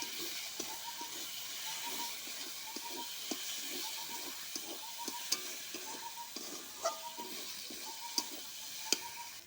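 Spice paste of turmeric, chilli and salt fries in a pan for chicken kosha, giving a soft steady sizzle with scattered scraping stirs and small clicks throughout.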